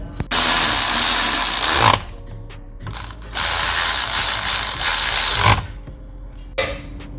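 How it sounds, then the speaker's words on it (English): Bolts on the rear wheel bearing of a 2017 Vauxhall Astra are tightened with a breaker bar, heard as two long bursts of close, loud ratcheting clatter separated by pauses with small metallic clicks, no voices. "you can just go tight up with the strong arm, the breaker bar"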